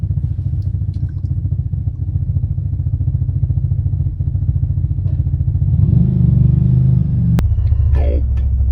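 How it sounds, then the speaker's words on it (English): A Ducati motorcycle engine idles with a deep, loud, steady rumble nearby, then swells into a heavier throb toward the end. "someone's just fired up their Ducati"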